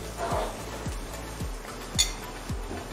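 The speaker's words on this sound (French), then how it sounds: "On va fouetter un peu de l'eau" A whisk scrapes and taps around a pot of butter and flour on the stove, with regular metallic strokes about every half second and a sharper clink near the end.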